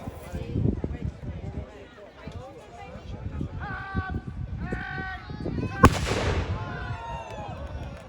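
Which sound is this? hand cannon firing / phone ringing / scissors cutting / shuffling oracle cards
hand cannon firing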